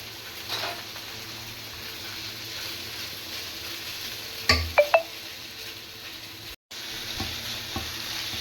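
Cooked noodles being tossed with vegetables in a pan, a soft continuous sizzle broken by a quick cluster of utensil clinks and knocks midway, close and fairly quiet.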